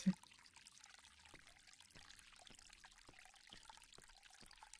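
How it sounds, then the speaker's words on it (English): A garden fountain trickles in a faint, steady stream, with soft ticking drips recurring at loose intervals. "This fountain makes a very relaxing sound."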